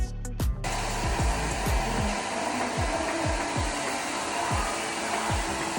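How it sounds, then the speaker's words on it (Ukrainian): A hair dryer roars continuously up close, its whooshing airflow steady while the motor pitch wavers slightly. "Це була дуже гарна ідея взяти з собою свій фен."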